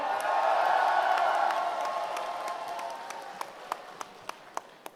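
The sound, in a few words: audience applause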